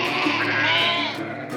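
A merino sheep in New Zealand bleats loudly and close by, one long wavering call that trails off, with faint higher bleats behind it.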